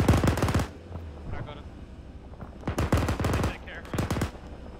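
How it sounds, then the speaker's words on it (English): Gunfire in a military video game, with an M60 tank gunner position: sharp bursts of rapid automatic fire come in three separate volleys with quieter gaps between them, fairly loud and close. "Shots coming in from the west."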